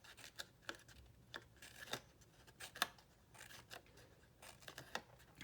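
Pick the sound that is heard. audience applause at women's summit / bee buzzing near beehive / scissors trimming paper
scissors trimming paper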